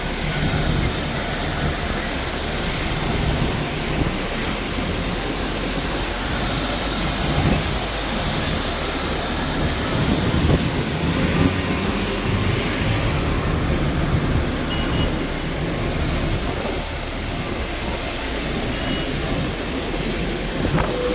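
An Air India Express jet at Hyderabad airport produces a steady, continuous engine roar that stays broad and constant throughout.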